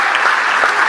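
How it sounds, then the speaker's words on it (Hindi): Brief burst of dense audience clapping at a live Hindi comedy poetry gathering (hasya kavi sammelan), loud and steady throughout the short moment. "मार्कंडेय जी के लिए ताली बजा दो भाई"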